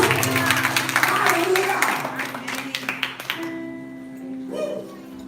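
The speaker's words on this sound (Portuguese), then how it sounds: "Se você crê nisso, aplauda o Senhor Jesus" A church congregation claps in praise during a sermon, a dense burst of applause with voices mixed in that thins out and stops partway through, leaving quieter room sound with a brief voice.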